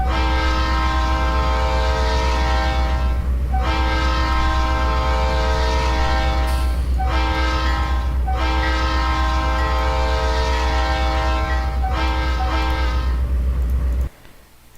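A Conrail C39-8 locomotive horn in the Trainz game sounds in loud, steady chord blasts, several long blows separated by short breaks, alone without talk, cutting off near the end.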